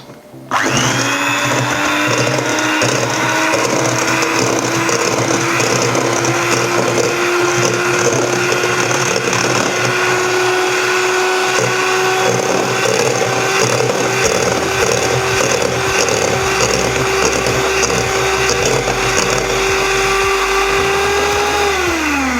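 A blender mixes egg-based mayonnaise ingredients before the vegetable oil goes in, a loud steady whirring motor that starts abruptly and runs evenly for about twenty seconds before spinning down, with no talk.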